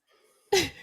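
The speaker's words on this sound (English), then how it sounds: "I just sneezed." A single sharp sneeze bursts out after a brief quiet breath, close and loud.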